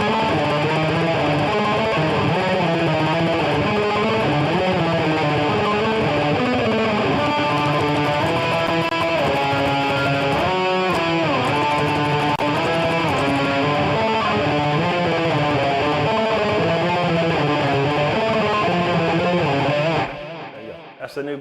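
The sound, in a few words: electric guitar playing a black metal riff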